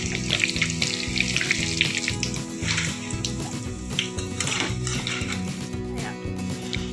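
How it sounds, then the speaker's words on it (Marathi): Dal frying in hot oil for murmura chivda, a dense bubbling sizzle that runs throughout, close and fairly loud, with a faint rhythmic background hum and no talking. "त्यानंतर डाळ टाकून घ्या आणि याला सुद्धा मस्त तळून घ्यायचं आहे"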